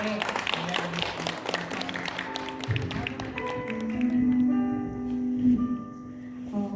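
A church youth gathering audience gives a lecturer a round of thanks, with a patter of claps and taps under a sustained musical tone, fairly close, while someone speaks over it.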